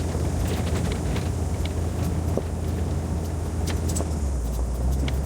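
A four-wheel-drive vintage Japanese RV on all-terrain tires grinds up a steep, loose road, its engine a steady low rumble under constant wind buffeting with faint crunches and rattles.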